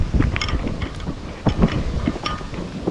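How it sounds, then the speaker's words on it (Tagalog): Strong seaside wind buffeting a microphone on a beach, a rough low rumble with gusty surges and thumps over about three seconds, loud and close, with no clear talking. "Malakas ba yung hangin?"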